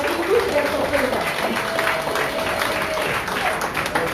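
An outdoor audience at a French village patronal fête applauds its honorary presidents: steady, moderately loud crowd clapping that lasts throughout, with a voice faintly audible beneath it.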